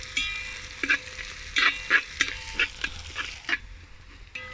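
Shallots sauté in a pan for Kerala-style fish head curry, a soft sizzle broken by sharp scraping clanks of a spoon stirring at irregular intervals, close and clear.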